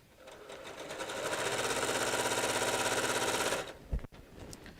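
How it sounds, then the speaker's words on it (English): A domestic sewing machine runs at a steady, fast, even whir while stitching an improv quilt, close and loud for about three seconds before it stops with a click. "is my sewing machine too loud?"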